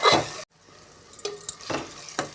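Chilli powder is stirred into a soft tomato masala for chicken biryani: one short scraping burst, a pause, then several more scrapes and stirs close by, with a faint sizzle underneath and no talking.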